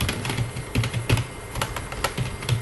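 Fingers tap quickly on a computer keyboard while a letter is typed in a word processor: close, irregular clicks and clacks in short bursts, with no voices.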